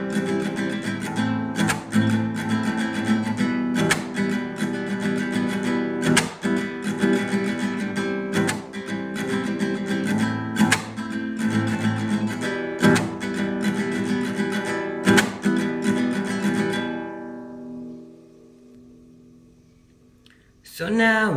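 Acoustic guitar strumming the chord progression of Billie Eilish's Bellyache in a steady down-up pattern, dense rhythmic chords close up for about seventeen seconds before ringing out and fading.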